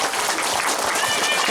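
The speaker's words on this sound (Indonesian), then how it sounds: "mari kita tepuk tangan untuk anak-anak kita" An audience claps for young children at the opening of a parish kindergarten in Papua, a dense wash of applause filling the short moment with voices mixed in.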